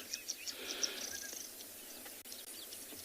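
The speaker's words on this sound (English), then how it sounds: "All the birds are getting active." Birds calling at sunrise in the African bush on the Tswalu reserve, with several chirps and short whistled calls over a faint insect hum, moderately distant in a quiet outdoor setting, with no speech.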